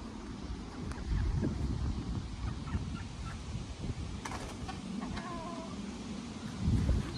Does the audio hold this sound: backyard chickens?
yes